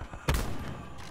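In Call of Duty Black Ops 4, distant gunfire cracks once in a short, muffled burst, somewhat faint against the game's background ambience.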